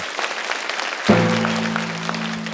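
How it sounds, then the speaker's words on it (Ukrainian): Audience applause at a stand-up comedy show, steady clapping throughout, with a sustained musical tone entering midway and continuing under the clapping. "Зал аплодує."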